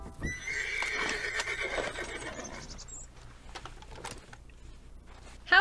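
Horse in Red Dead Redemption 2 gives a loud, close whinny followed by hoof clip-clops and faint mechanical clicks, with no speech.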